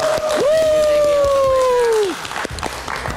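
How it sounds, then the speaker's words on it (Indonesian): Audience applause on a live Indonesian late-night TV show: steady, dense clapping across the whole stretch with a sliding whistle-like tone above it and some voices mixed in. "Kita berikan tepuk tangan."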